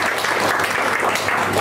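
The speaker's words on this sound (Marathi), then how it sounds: "कमीत कमी कवी उतरून जागेवर बसेपर्यंत तरी टाळ्या वाजवा" Applause from an audience at a poetry gathering, dense continuous clapping at an even level throughout, close and lively, with no voices over it.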